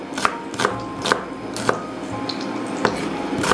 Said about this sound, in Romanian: cum e ceapa așa, pe lung o tai